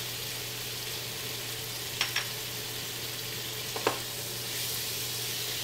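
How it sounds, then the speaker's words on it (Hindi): Crushed red chilli and turmeric fry in a pan for potato slices, making a faint, even background sizzle over a low hum, broken by a couple of short clicks of stirring, with no voices. "अब हमने मसाले को 2 मिनट तक फ्राई करना है।"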